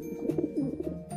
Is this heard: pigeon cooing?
yes